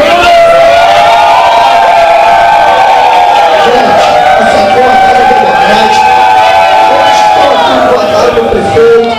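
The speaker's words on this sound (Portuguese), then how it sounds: "Muita gente vaiando aqui" A large crowd boos and jeers at a mayor and councillors' inauguration ceremony in Magé, loud and sustained, with tonal shouts and whistles layered over a dense roar.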